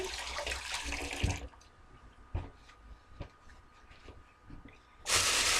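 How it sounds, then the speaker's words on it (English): Running tap water splashes over hands being washed at a kitchen sink, a loud hissing rush at the start, then quieter drips and handling noises before the flow surges again at the end. "And we washed our hands now."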